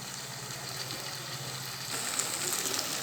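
Tomatoes sautéing in a pan as part of a chickpea sundal biryani, giving a steady, close sizzle with soft crackle that grows slightly louder partway through, no voices.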